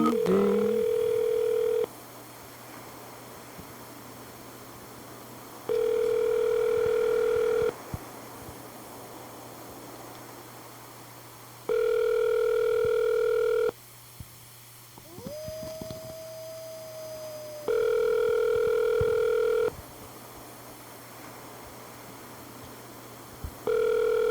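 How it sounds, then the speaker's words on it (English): A telephone rings with a repeating electronic tone in regular bursts separated by pauses, with a short rising beep partway through and a faint background hum between rings. "Ring, ding, ding."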